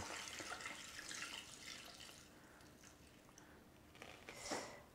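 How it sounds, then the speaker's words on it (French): Tap water runs steadily from a kitchen faucet while filling for a Thermomix recipe, a soft continuous hiss with small splashes that swells briefly near the end, faint and without talk. "c'est de l'eau du robinet"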